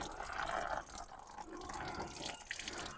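Water drains from a car's coolant system, which was filled with plain water, making a steady splashing, trickling flow that continues throughout at close range without any talk.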